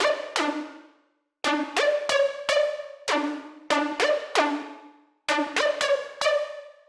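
A sharp-attack synth pluck called Call Me When the Beat Drops plays short melodic bursts of quickly decaying, bell-like notes, with brief silences between phrases. It plays alone, clean and fairly loud.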